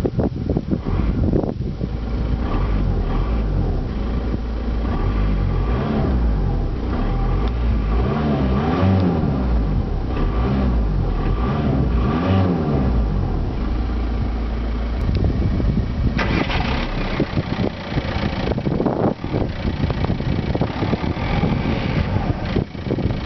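A 2008 Volkswagen Golf GT TDI diesel hatchback engine runs loudly nearby, revving up and down repeatedly with wind noise buffeting the microphone.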